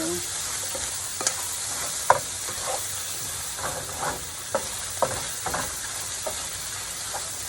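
Pork belly kimchi fried rice is stir-fried in a hot pan: a constant sizzle broken by repeated scraping and clacking strokes of the spatula, close and clear, with no voices.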